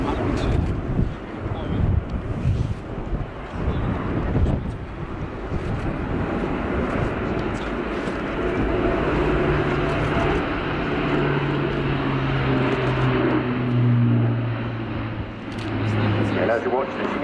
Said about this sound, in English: turboprop airlifter for Europrop International TP400 engines.